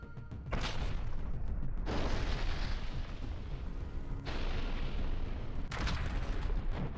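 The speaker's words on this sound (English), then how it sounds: "Objective monitoring of powerful FAB-500 strikes" FAB-500 aerial bombs strike military positions near Pokrovsk, a series of heavy, rumbling blasts that follow one another in sustained waves, distant and muffled, with no talking.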